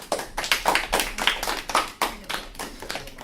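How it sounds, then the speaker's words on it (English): Delegates at a high school Model UN Security Council session clap together, a dense run of hand claps with irregular bursts swelling and fading over a few seconds, no talking over it. "you may clap if you wish."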